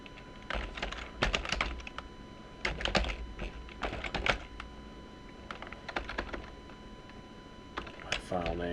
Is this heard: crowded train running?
no